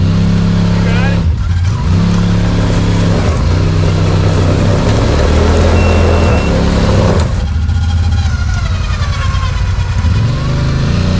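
An Eagle Talon revs on a hilly off-road trail in Kentucky, its engine surging and dropping in loud repeated pulls, with voices talking over it.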